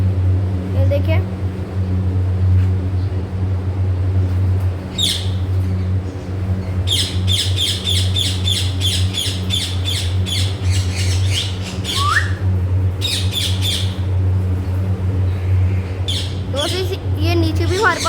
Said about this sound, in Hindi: ये नीचे भी हमारे पास है अफ्रीकन ग्रे पैरट।